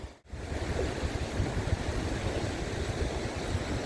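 Water flowing and foaming down past an old mill, a steady broadband rush heard close up with a brief dip near the start, no voices.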